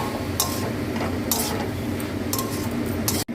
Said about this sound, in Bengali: এই ঢাকাটা দিলাম।